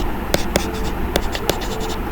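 A pen scratches across paper while writing out a math partial fraction form, close and fairly loud, with a few sharp tapping strokes over a steady scratchy hiss.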